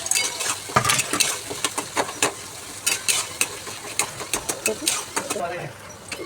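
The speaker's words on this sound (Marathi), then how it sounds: "कांदा आपण फ्राय करून घेऊया." Chopped onions fry in a pan with a busy sizzle, broken by frequent sharp scrapes and clinks of stirring that repeat in an uneven rhythm, close and fairly loud.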